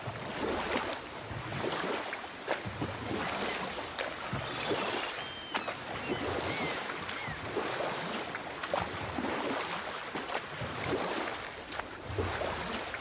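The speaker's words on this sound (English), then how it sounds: "Keep rowing towards the statues of the oarsmen, then thread past between them." Oars dip and splash as a boat is rowed across open water in the video game God of War, with soft rhythmic strokes over a gentle wave and wind bed, fairly quiet and without speech.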